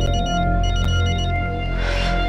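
A telephone ringing in a tense drama scene, a steady electronic ring sustained throughout over a low hum, fairly loud and close.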